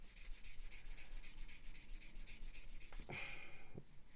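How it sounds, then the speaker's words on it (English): A sanding sponge buffing part of a Revell Lockheed Ventura PV-1 plastic model kit in quick, rhythmic back-and-forth rubbing strokes, close and steady, ending in a few louder scrapes, no talking. "with the sand and sponge we can come in"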